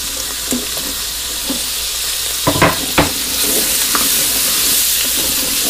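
Onions, garlic, carrots and potatoes fry in a pot, a constant bright sizzle broken by a few clunks and scrapes of a utensil stirring, including two louder knocks near the middle.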